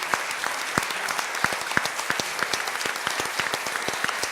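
A live theatre audience gives a round of applause, the claps fairly sparse and distinct with individual hand slaps standing out, moderately loud and continuous, with no talking over it.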